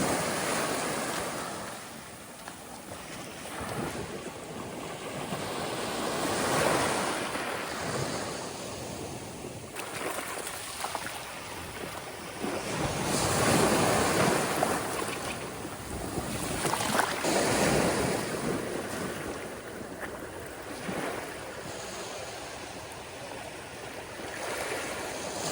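Ocean waves and wind at Pandan Island, the surf rising and falling in slow surges with a steady windy rush underneath, fairly close and with no talking.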